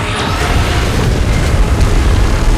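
A Titan's beam attack in the PUBG Mobile Titan Strikes event hits as a loud, dense booming roar, a sustained explosive rumble filling the whole moment with no letup.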